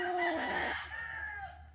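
A rooster crows on a gamefowl farm in one drawn-out call that trails off, fairly faint against a steady low background, with no voices.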